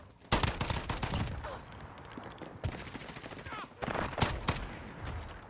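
Shotgun fire in Call of Duty Modern Warfare on the Khandor Hideout map, heard as several sharp bursts of shots with quieter game noise in between. The shots are fairly distant and low in level.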